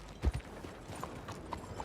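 Horse hooves in Red Dead Redemption 2 give a few close clip-clops near the start, then quieter scattered steps under faint town ambience in a stable area.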